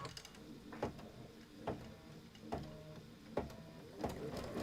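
An embroidery machine sewing a tack-down stitch, a quiet mechanical whir punctuated by regular thumping knocks about once every second, close and low in level.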